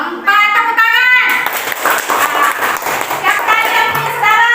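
Elementary school children in a classroom clap their hands together during a lesson on fractions. A burst of mixed, uneven claps follows the teacher's voice and runs to the end, with voices talking over it.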